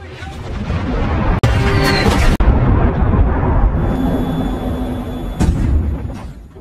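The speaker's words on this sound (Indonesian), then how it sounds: "tiba-tiba sebuah peluncur roket meledak di dekat mereka." A rocket launcher explosion in a war film against Taliban forces, a loud sustained blast and roar with sharp cuts and debris-like crackle, continuing as dense battle noise over several seconds.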